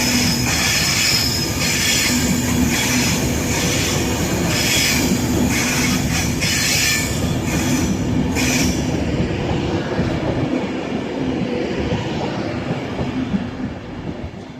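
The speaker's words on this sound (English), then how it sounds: "So as you know, the train's probably at about 30-40 miles an hour now." Train accelerating along rails to around 30-40 miles an hour near Stockport, a loud steady roar of wheels with clickety-clack and squealing, gradually easing near the end; no talking.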